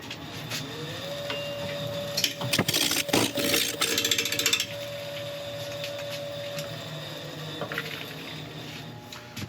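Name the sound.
wood lathe turning rotten elm with bowl gouge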